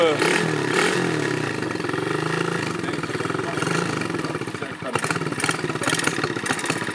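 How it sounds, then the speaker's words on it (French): A motorbike engine runs loud and close, chugging with a steady clattering rhythm and occasional revs, while people talk over it. "Démarre-moi ça et tu vas me faire un tour."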